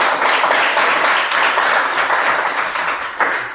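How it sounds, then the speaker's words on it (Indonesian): Classroom applause from students fills the room, a loud, continuous burst of many hands clapping that holds steady for several seconds before easing slightly, with no voices over it. "Oke, tepuk tangan."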